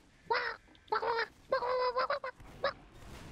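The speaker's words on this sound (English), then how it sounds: "Quack, quack, quack." A handful of nasal duck quacks from Team Fortress 2 sound in quick, uneven bursts, fairly close and distinct against a quiet background.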